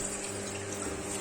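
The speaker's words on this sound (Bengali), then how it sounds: "এই জলটাকে ফেলতে হবে, এই জলটাকে ফেলে দেব।" Water poured off soaked cooked rice for Bengali fermented panta bhat, a steady faint splashing trickle into a sink or container, continuous and without talk.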